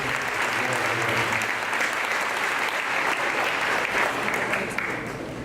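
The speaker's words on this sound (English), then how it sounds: "Please give Brother Walker a round of applause." An audience applauds Brother Walker at an MLK event, a steady, dense wash of clapping hands that holds evenly throughout without pause.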